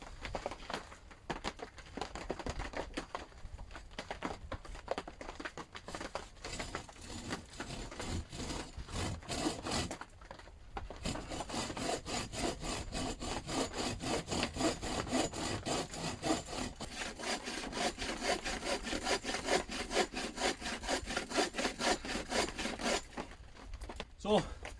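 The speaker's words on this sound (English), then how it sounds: "So if I just saw away each bit here, and then I'll see what happens." A hand saw rasps through wooden shelter roof supports in quick back-and-forth strokes, close and steady, with brief pauses between cutting passes.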